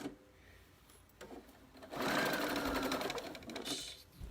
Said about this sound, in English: So I'm just going to go ahead and just do a basting stitch real fast.